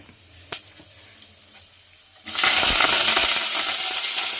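Curry leaves hit hot oil already holding cumin and mustard seeds, bursting into a loud, steady crackling sizzle after a single sharp click, then hissing on close and continuously.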